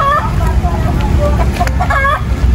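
Several chickens cluck and cackle in short bursts close by at Ecopark Ancol in Jakarta, over a steady background of rain and outdoor noise.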